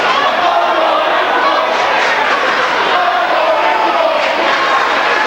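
Loud crowd at a girls high school basketball game between Sac City and IKM, a dense roar of student sections yelling and chattering all at once, sustained and close with no pauses.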